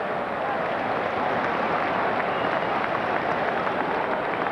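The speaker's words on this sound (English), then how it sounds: "Sylvain Wiltor amongst those quick to applaud the save from the on-loan goalkeeper" A football stadium crowd applauds steadily after a goalkeeper's save in an Arsenal versus Wolves League Cup match, a dense sustained wash of clapping with a faint murmur of voices.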